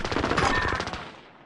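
Rapid, loud video game gunfire bursts out in a dense string of shots for about a second, then trails off.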